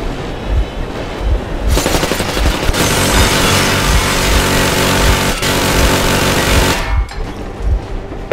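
Sustained machine-gun fire, a warning barrage in the shooter Metro Exodus, hammers loud and continuous for several seconds. It cuts off abruptly near the end, leaving a lower rumble.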